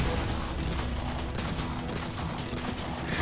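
Gunshots in the video game Terry's Tragedy, a rapid cluster of sharp reports close together, fairly loud against a constant noisy game backdrop, with no talking.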